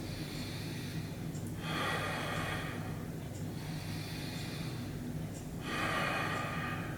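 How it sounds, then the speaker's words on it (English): Slow, deep breaths during a calming Feldenkrais breathing exercise, two long audible inhales close to the microphone with quieter exhales between, over steady room hiss. "just take a couple of deep breaths"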